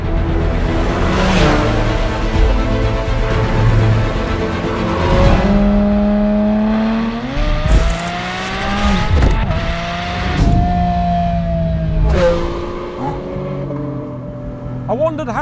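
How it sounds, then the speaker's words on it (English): A Porsche 718 Spyder RS with its removable roof off, flat-six intake loud and close, revving up and down repeatedly with rising and falling pitch sweeps over about fifteen seconds of continuous engine noise. "it does allow you to experience that incredible intake sound with even greater clarity"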